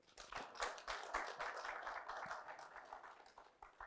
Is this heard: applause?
yes